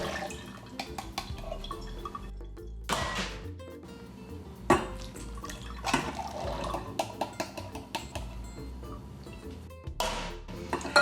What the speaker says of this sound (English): we need to drain the chickpeas, the garbanzo beans, but we want to save the liquid.